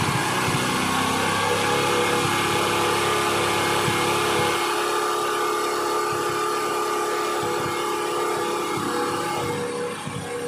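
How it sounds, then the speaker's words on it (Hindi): A Bajaj Discover 110cc motorcycle engine runs close by at raised revs while the carburetor's fuel and air screws are adjusted, giving a steady, buzzing drone throughout with no talk. "आरपीएम बढ़ रहा है ऑटोमेटिक।"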